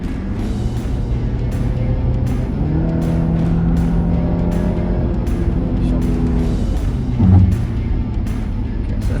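A 2023 Mazda CX-60 engine accelerating after a paddle-shift downshift of its non-turbo automatic, a steady loud cabin drone that rises in pitch and then eases, heard from inside the car.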